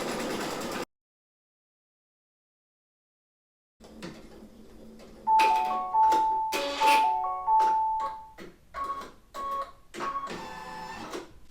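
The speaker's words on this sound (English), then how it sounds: "So I'm just going to let it stitch out and tack this fabric down." A Brother Innovis V5LE embroidery machine stitches down fabric in the hoop, starting after a brief silence with rapid mechanical needle chatter and whirring motor tones in uneven bursts, close and fairly loud.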